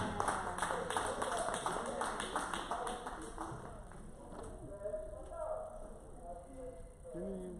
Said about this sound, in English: A big round of applause for the gentleman.